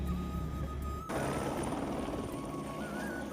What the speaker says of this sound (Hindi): हिल्सा में हमें उतारने के बाद हेलीकॉप्टर वापस सिमिकोट के लिए रवाना हो जाता है